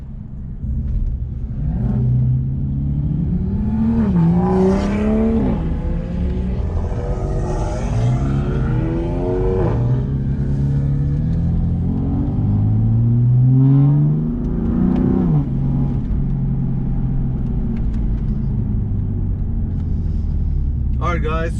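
A stage 2+ BMW F82 M4 on E85, with downpipe, front-mount intakes, mid pipe and aftermarket exhaust, drives at night. The close engine drones and repeatedly revs up through the gears in rising pulls over a constant road rumble.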